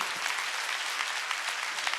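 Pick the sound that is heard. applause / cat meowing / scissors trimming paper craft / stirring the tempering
applause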